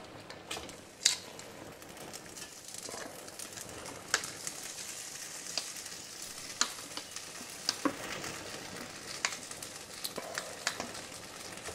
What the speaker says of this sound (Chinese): 咁到炒个饭咧，我就唔落油噶啦，因为你个镬咧有油咧